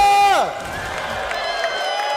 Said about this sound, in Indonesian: Jadi untuk Bigetron pada tepuk tangannya